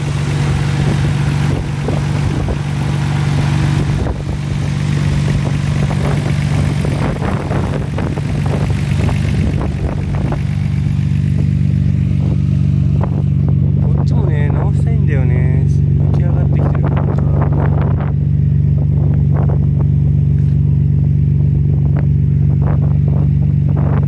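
A Nissan R32 Skyline GT-R, its exterior half restored, roars loudly with a deep, steady engine drone close by, holding throughout with rising and falling rasps layered over the low rumble.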